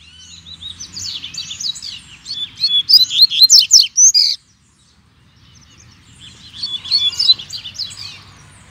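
Young coleiro seedeater sings a fast, loud series of bright twittering notes outdoors, pausing briefly before resuming another burst of chirpy song.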